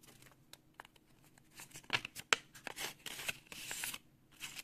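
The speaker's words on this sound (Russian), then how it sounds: "Пакетик с Таносом. Открываем." A paper collectible packet with Thanos on it, from a Marvel series, is torn open by hand: quiet, close crinkling and sharp ripping bursts in irregular clusters, with brief pauses between tears and no talking.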